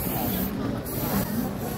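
Leaf shine spray misted onto a bonsai's foliage at a bonsai show in Ratchaburi, a steady hissing spray running throughout, close and moderately loud, with faint crowd babble behind it.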